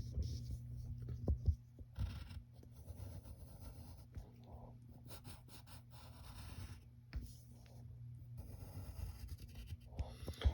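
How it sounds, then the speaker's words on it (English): Pencil scratching and rubbing on paper while sketching Buzz Lightyear, soft intermittent strokes with brief pauses, close and quiet over a low background hum. "So just draw a half circle right there"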